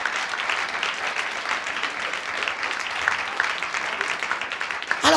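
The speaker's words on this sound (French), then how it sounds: "Merci Clarissa, on peut l'applaudir." Church audience applauding during a sermon, dense steady clapping throughout, with no voices over it.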